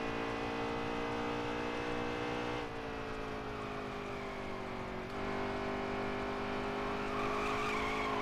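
A NASCAR stock car's engine wails under sustained tire squeal as it slides on the edge of spinning during a qualifying lap in NASCAR Heat 3, with a steady loud drone and shifting pitch as the car is caught.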